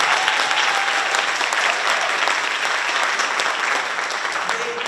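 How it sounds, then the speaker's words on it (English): A crowd at a school Black History program claps for the children, a loud, sustained burst of applause that fills the room and stays steady before easing slightly at the end. "Let's go ahead and give them a round of applause for their efforts."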